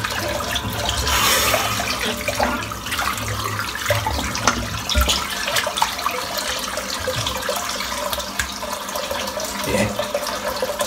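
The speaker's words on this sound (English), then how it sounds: "I'm just going to empty the sink out because it's pretty dirty" A dirty bathroom sink emptied after shaving, water gurgling and rushing down the drain in a continuous close, fairly loud flow that runs for about ten seconds, with no talk.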